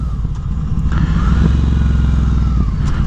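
Ducati Scrambler fitted with a Competition Werkes slip-on exhaust, its engine loud and close as it slows down in gear, a throaty continuous drone with throttle changes.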